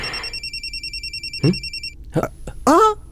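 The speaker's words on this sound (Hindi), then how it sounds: "ससुर जी का फोन है।" A telephone rings with an incoming call, giving a steady pulsing electronic trill throughout, and voices speak briefly over it.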